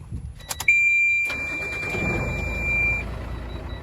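A car with a turbocharged engine starts with a short crank, then a steady engine idle continues, accompanied by a high electronic beep tone that runs for a couple of seconds.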